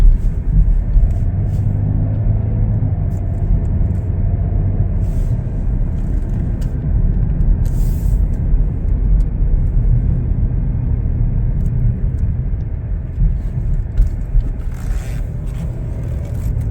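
A 2021 Chevrolet Blazer LT is driven at a steady pace, its low road rumble and engine drone continuous and loud from inside the cabin, with a few faint rattles.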